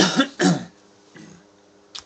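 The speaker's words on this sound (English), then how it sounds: "smoker's cough." A smoker's cough: two harsh, close coughs in quick succession, then a weaker rasping hack and a short throat-clearing catch, with no talking.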